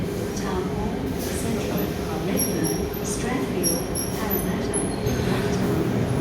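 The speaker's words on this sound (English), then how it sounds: "The train on platform 1 goes to Emu Plains via Central." A Sydney suburban train on the platform at North Sydney station during the afternoon peak, a steady rumbling hum with faint high squeals, continuous and fairly loud throughout with no speech over it.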